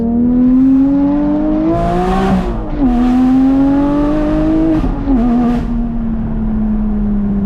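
A Porsche 718 Cayman GT4 revs loudly and continuously on a dyno, pitch climbing and dropping through gear changes with a throaty aftermarket exhaust note, no talking.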